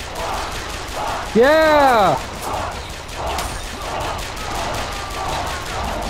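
Bursts of gunfire in the video game Bioshock Infinite, a steady series of muffled shots at mid distance beneath game sounds, with a voice shouting briefly in excitement partway through.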